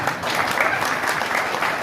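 Applause breaks out from a crowd at a political meeting in Indapur, dense continuous clapping that is loud and sustained throughout with no clear voice over it.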